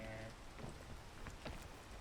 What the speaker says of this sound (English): I should not do this while it's raining.